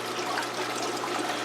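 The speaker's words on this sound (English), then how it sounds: "I don't know if you can hear that splashing in the background or not, but that's actually the fish in my New World tank" Water splashing and trickling in a freshwater native-fish aquarium tank holding crayfish, a steady, fairly quiet watery wash running throughout with no talk.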